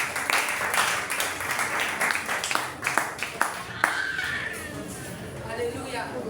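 A church congregation applauds and acclaims together during a New Year's Eve watch-night service, steady clapping filling the room with voices calling out and talking over it.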